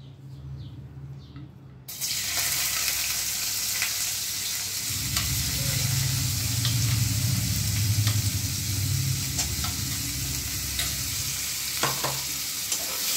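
Chopped onions hit hot mustard oil with a sudden loud hiss that settles into a continuous strong sizzle, with a low rumble of stirring underneath; quieter kitchen sound comes before it.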